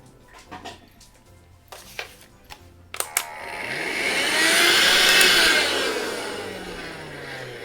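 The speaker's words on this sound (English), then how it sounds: "Let me just vacuum this." A small vacuum cleaner used on a pastel artwork starts after a few clicks and taps, its whine swelling into a loud, airy roar that holds steady, then eases slightly.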